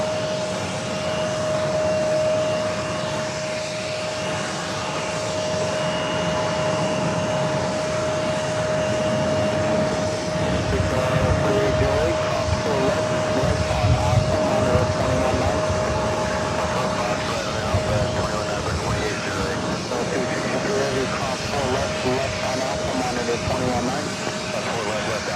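A JetBlue Airbus A320 takes off on runway 4 Left at JFK, its engine roar building steadily and swelling loud midway, with a continuous whine and talk over it throughout.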